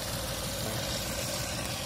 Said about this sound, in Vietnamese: Động cơ máy chạy rất là êm.